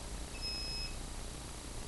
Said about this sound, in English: Radio's got a healthy, happy beep.